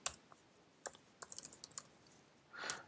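Rapid keystrokes on a MacBook keyboard, a scattered run of light, close clicks and taps with short pauses between them, then a softer rustle at the end, with no talking.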